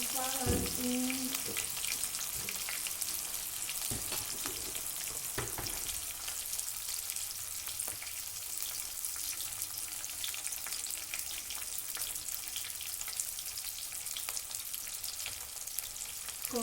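Masala spices hitting hot oil for a Manipuri-style chicken curry with garlic and ginger paste, a steady loud sizzle and fry throughout with a few stirring clatters near the start.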